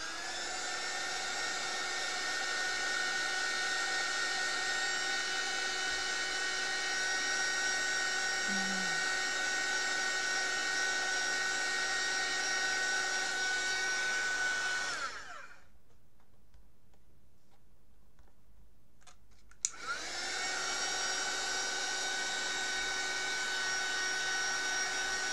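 A heat gun blowing to melt sticky embossing powder gives a loud, steady whirring hum with a high whine, briefly switched off for a few seconds before starting up again.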